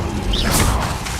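A burst of whooshing fire magic with a loud, full-bodied rush lasting about a second, the Incendio spell cast in the game Hogwarts Legacy.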